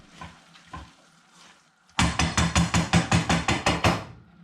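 A spoon stirring chard in a cooking pan for shepherd's pie, about a dozen quick, evenly spaced scraping knocks, close and loud, following a few softer earlier taps.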